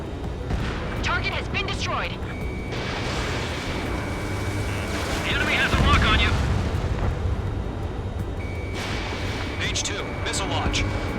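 Anti-aircraft gunfire in the air combat game Ace Combat 7: Skies Unknown, low rumbling bursts and booms under radio chatter, with voices talking over the steady roar of battle throughout.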